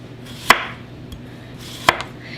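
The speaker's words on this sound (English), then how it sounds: "We're going to slice these for candied yams. I like to slice them in circles" A knife cutting sweet potatoes into round slices for candied yams, two crisp chops against a cutting board about a second and a half apart, close and clear with no talk.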